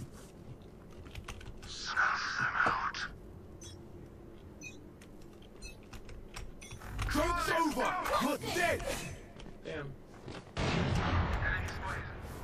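A few sharp bursts of gunfire from a shooter video game, loud and close, separated by quieter stretches, with a voice talking over part of the action.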